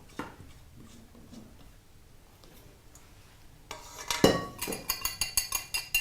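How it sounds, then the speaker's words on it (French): Cupcake batter being mixed by hand in a bowl as self-raising flour is worked in: quiet at first, then a rapid run of rhythmic clinks and scrapes of a utensil against the bowl, close by. "Et je touille. Et tu mélanges."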